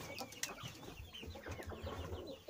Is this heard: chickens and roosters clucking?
yes